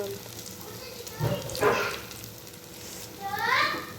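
Urad dal vadas frying in hot oil, a steady low sizzle with brief bursts of bubbling, heard close and at moderate volume with no talk.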